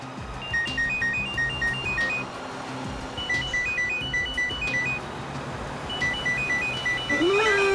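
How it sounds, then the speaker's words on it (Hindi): A phone rings in repeated electronic bursts of two-tone chirps, three rounds with short pauses, over a steady rumbling background hum. "फोन की घंटी बज रही है"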